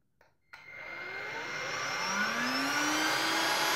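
An H.Koenig UP600 EasyClean 2-in-1 bagless stick vacuum switches on after a brief click, then runs steadily with a loud, airy motor roar and a rising high whine.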